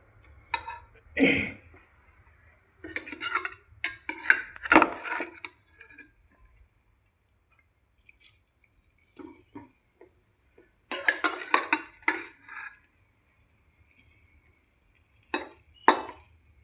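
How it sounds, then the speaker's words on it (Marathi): Lemon pieces added to jaggery in a pot for a simple lemon pickle, heard as scattered clinks, taps and scraping of utensils against the pot in short bursts separated by quiet gaps. "ह्या मी त्या गुळामध्ये टाकते आणि शिजवून घेते"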